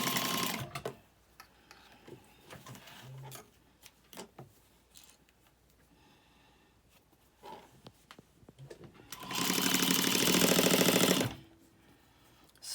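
A sewing machine bastes fabric in a few short, rapid stitching bursts, then runs for a longer, louder stretch near the end, with quiet handling sounds between runs.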